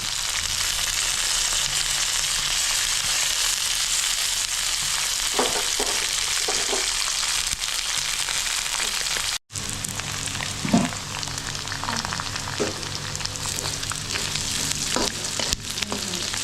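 Curry leaves crackle and sizzle steadily in hot oil in a pan, a loud continuous frying hiss with occasional stirring scrapes and a brief break midway, while making a Telangana-style uppudu pindi.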